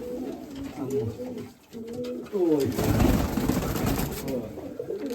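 Nikolaev pigeons in a keeper's loft in Kamianske, Ukraine, coo in low warbling phrases close by, with handling noise and a burst of broadband rustling mid-clip while people talk in between.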